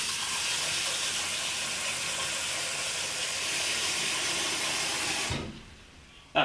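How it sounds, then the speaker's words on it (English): A steady broadband hiss of tap water running into a cooking pot for noodles, loud and continuous for about five seconds before cutting off and fading to near silence. "we're just going to fill this pot with some water"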